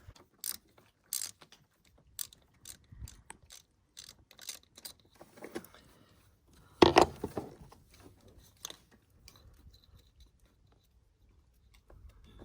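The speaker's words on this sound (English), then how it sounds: "So now I'm just gonna pull out this Torx nut screw" A ratchet clicks while it backs a Torx screw out of a Jeep JKU cam position sensor, quiet scattered bursts of ticking with one louder rattling cluster in the middle and pauses between turns.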